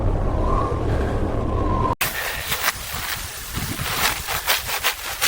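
Strong wind in an Alaska snow blizzard, loud gusting roar buffeting close by, cut briefly and then returning as choppy, surging blasts of wind noise, with no talk.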